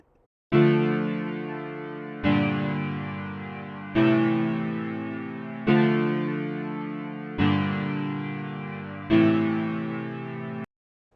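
A distorted electric sound plays six sustained chords in a steady sequence, each struck then held for about two seconds, loud and full, no voices.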